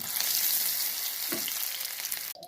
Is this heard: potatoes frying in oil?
yes